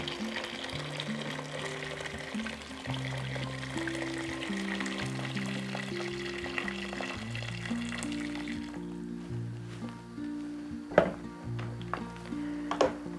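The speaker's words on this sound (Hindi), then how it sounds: "इस स्टेज पर मैं इसमें पाँच से छः गिलास उबलता हुआ पानी डाल दूंगी" Boiling water is poured into a pot of fried mutton paya whose oil has separated, giving a long sizzling, bubbling wash with a few sharp clanks near the end.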